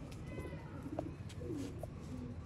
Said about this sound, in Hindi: प्योर फिरोजपुरी कबूतर है